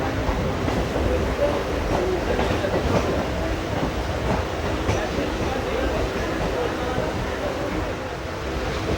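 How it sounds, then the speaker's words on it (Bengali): A Kolkata Circular Railway train runs along the Ganges riverside into Prinsep Ghat station, a steady loud rumble and rattle heard from inside the carriage, continuous for the whole stretch. "এবার এই ট্রেন প্রিন্সেপ ঘাটে ঢুকছে"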